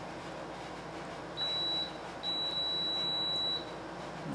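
A multimeter's continuity beeper sounds during checks on an Acopian high-voltage power supply: a short steady tone, then a longer one about two seconds long, over faint room hum with no talking.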